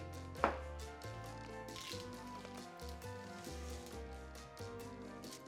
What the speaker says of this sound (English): I've actually just heated up my knife so it makes it slightly easier to cut through